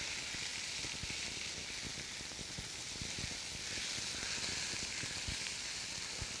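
Fajita-seasoned meat sizzles steadily on a Blackstone griddle over medium heat, a dense, even hiss with scattered pops and crackles, close and loud throughout with no voices.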